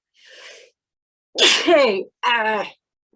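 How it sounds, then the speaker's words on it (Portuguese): A woman sneezes three times during a Portuguese poetry reading: a soft first burst, then two loud, close sneezes in quick succession, with no talking in between. "Espirrei, muito obrigada pelo saúde, não vou cortar isso, eu vou deixar."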